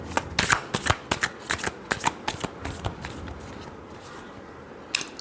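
Tarot cards shuffled by hand in a quick series of crisp riffling bursts and flicks, close and alone, easing off into softer handling near the end.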